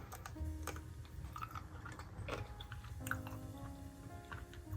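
Someone chews a homemade peanut butter ball made with cream cheese, soft close mouth sounds with small crunchy clicks repeating steadily over a faint background.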